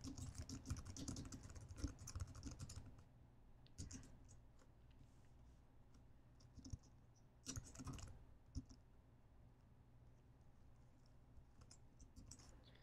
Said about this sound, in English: type a little message here